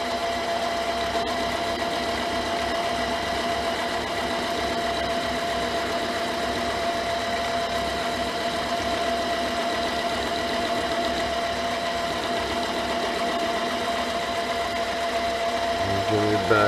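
A mini lathe turns at 450 RPM while plastic stock is hand-fed into the cut, giving a steady mechanical whir and hum that holds unbroken and fairly loud throughout.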